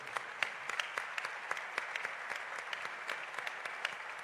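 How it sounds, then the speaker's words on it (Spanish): Applause from an audience in a cultural center in Mexico honors a teachers' union secretary general, a fairly quiet, distant patter of individual claps that stays steady throughout without voices. "para quien pedimos un aplauso y un agradecimiento"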